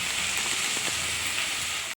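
Vegetables frying in a pan for veg pulao, an even, close hissing sizzle that holds steady for about two seconds before cutting off abruptly.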